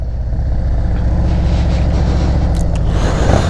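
A 2023 Harley-Davidson Road Glide with a Screamin Eagle Stage 3 119 engine is ridden on a Pennsylvania road in February, giving a loud, continuous deep engine rumble with a steady low throb throughout and no voices.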